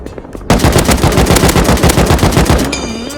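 Rapid AK rifle spray in the game Rust: a loud, sustained burst of evenly spaced automatic gunfire starting after a brief pause and running without break to the end, no talking.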